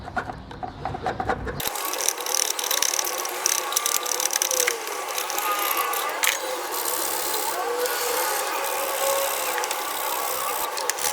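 Scraping and sanding at a car body's ground point where the ground cable attaches, a dense, rapid rasping scratch that runs continuously and close up after a brief quieter start, with no talking.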